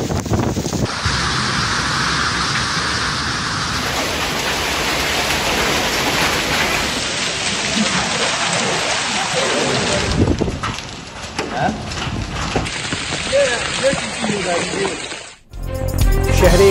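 A violent storm in Lahore brings gusting wind, rain and hail. The near-constant loud roar of wind and rain surges and briefly drops away, with a voice speaking over much of it.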